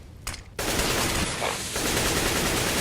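Rapid gunfire in the video game Counter-Strike, including an MP9 submachine gun: a dense, loud burst of shots that starts abruptly after a short quieter stretch and keeps going without a break.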